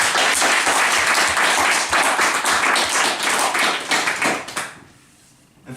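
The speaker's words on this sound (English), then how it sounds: "So, massive round of applause," Audience applause at an end-of-year club president's speech, steady loud clapping for several seconds that dies away near the end.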